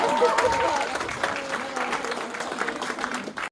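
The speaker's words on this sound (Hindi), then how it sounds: "एक बार फिर ये रुकनी नहीं चाहिए तालियां" An audience claps at a community charity event in Glasgow, a steady patter of hands that carries on for a few seconds while voices talk over it, then cuts off abruptly.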